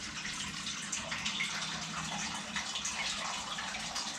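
Water from a tap pours steadily into a medium-sized cooking pot, a continuous close hiss and splash with a low hollow rumble, with no talking over it.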